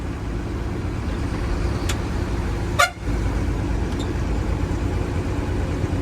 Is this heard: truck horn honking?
yes